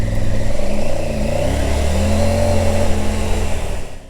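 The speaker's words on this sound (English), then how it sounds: "I can't get over what a cracking engine this is." A car engine revs hard under acceleration, a loud close, sustained mid-pitched roar that rises and falls through the gears before easing off at the end, with no voices.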